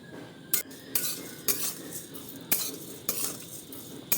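Flattened rice (chire) fries in a pan with a soft sizzle while a metal utensil scrapes and clinks against it in repeated stirring strokes, close and fairly quiet, with no talking.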